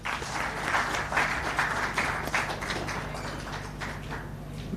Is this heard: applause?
yes